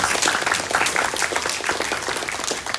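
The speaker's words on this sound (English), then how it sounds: "let us give a big round of applause to our panelists" Audience applause for the panelists at an IEEE tech panel, a dense, even roar of many hands clapping that stays loud and steady from start to finish.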